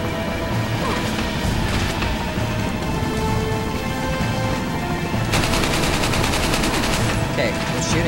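Gunfire in the video game Resident Evil 4, loud and dense against a constant noisy background, with a burst of rapid, rattling shots in the last few seconds.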